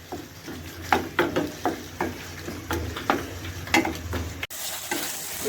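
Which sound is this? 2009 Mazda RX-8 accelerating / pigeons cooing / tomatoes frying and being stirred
tomatoes frying and being stirred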